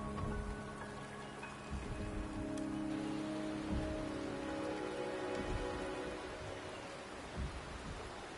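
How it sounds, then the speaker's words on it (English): Game rain from Wuthering Waves falls steadily in a mountain region, a soft, even hiss of rain on surfaces with scattered droplet ticks and a faint low rumble underneath. "The rain is subsiding."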